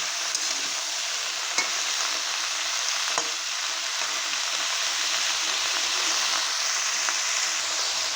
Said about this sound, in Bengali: নুন দিয়ে ভালো করে নেড়ে নেব